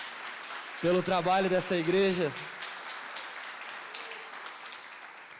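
A church congregation applauds after a preacher's spoken line, the clapping a soft, brief patter following his voice and fading into room ambience.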